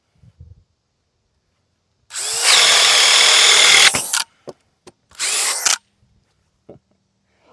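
DeWalt DCD1007 drill in hammer mode with a half-inch masonry bit, two loud close bursts of high-pitched drilling, the first about two seconds long and the second shorter, with a few clicks between and after.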